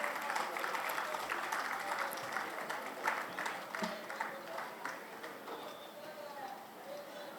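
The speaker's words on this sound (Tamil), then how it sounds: "கைத்தட்டல்கள் கொடுத்துடலாமே" Scattered applause from an audience at a Chennai book event, a loose patter of claps running steadily with a murmur of voices underneath and no single loud burst.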